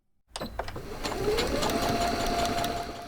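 A sewing machine in a home bedroom workspace stitches burial gowns from donated wedding dresses. A few clicks come first, then a steady close whirring run that holds level to the end.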